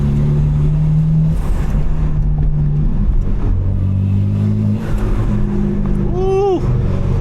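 A 750hp BMW M4 drives at night, its engine and intake droning loudly and steadily, with a rising rev near the end and voices talking over the engine noise.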